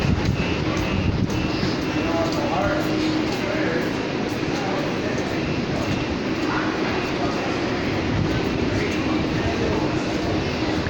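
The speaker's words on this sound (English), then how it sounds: "That train's gone." A Calgary CTrain Red Line LRT train pulls out of Chinook Station, a steady loud rumble of wheels and motors with wind noise across the microphone, while people talk nearby.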